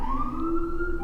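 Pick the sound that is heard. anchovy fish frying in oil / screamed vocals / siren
siren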